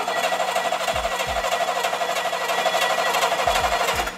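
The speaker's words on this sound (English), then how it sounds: "we're gonna go and hit the starter and check on the crank with our timing light" An engine spinning on its starter with the ignition timing being checked, giving a steady harsh whir broken by a few deep, regular thumps, close and fairly loud.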